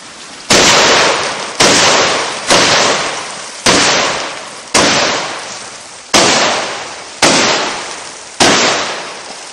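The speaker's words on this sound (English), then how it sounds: "have you ever seen anybody make a rainbow with a 12-gauge shotgun?" A 12-gauge shotgun fires eight loud blasts in a steady rhythm about one second apart, each a sharp crack with a quickly fading tail, heard alone and close.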